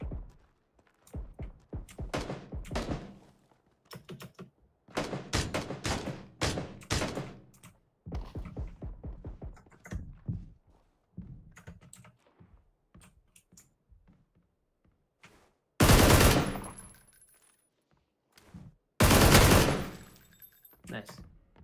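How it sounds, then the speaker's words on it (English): Bursts of automatic gunfire from the video game PlayerUnknown's Battlegrounds, two loud sustained volleys late on, with players talking and keyboard typing through most of the stretch. "I'm getting shot from somewhere."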